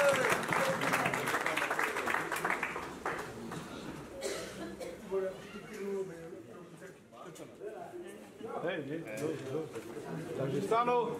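Wedding guests clap in a burst that starts strong and then fades under ongoing talk and chatter, with the clapping picking up again near the end.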